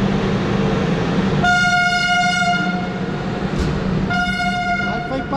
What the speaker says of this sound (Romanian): Uite trenul.